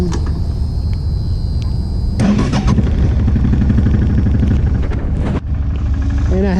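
A Suzuki DL650 motorcycle engine starts and settles into a steady, close, throaty idle with a brief dip midway, heard alone without talk.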